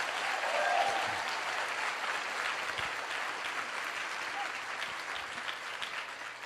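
Sustained applause from a live audience at a motivational talk, a dense steady wash of clapping that carries evenly through the clip with no voice over it.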